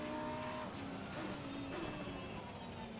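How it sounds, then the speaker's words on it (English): A race car in a racing video game turns on a wet, rain-setup track with its rear wheels braking hard, giving a steady engine whine with shifting tonal pitches and a faint tire squeal, mostly alone. "The car turns around, aided by the fact that the rear wheels are braking much more."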